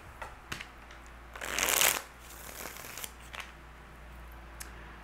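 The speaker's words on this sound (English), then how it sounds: "Okay, one more shuffle." A close, crisp riffle of tarot cards being shuffled, one quick burst in a quiet room with a few soft taps before and after.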